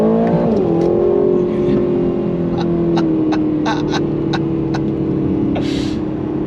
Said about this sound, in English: That V8 rumble is a freaking riot. It really, really is. On throttle!